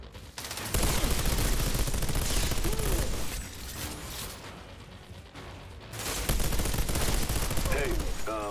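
Submachine gun in Outriders firing in long rapid bursts, loud and close, with mechanical rattling and a brief lull midway before the shooting resumes; faint voices sit underneath.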